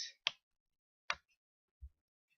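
The FG Chomper synth preset in FL Studio plays a few sparse, short percussive blips with silence between them, quiet and snappy like clicks.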